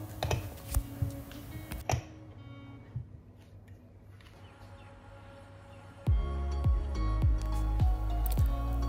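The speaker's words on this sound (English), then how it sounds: "Then I distribute the ground and then tamp it." Espresso grounds are spread and tamped into a portafilter basket for a Gaggia Classic Pro, giving scattered close taps and scrapes, a quiet pause, then a run of firm, regular knocks.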